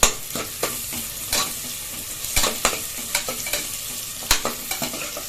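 Onions, dried chillies, curry leaves and garlic sauté in a pan while sambar rice is being made. A constant close sizzle runs under repeated sharp scrapes and knocks from stirring.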